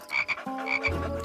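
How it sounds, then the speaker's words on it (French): A frog croaks in short repeated bursts, close and fairly loud, with no talking over it. "Ah, une grenouille."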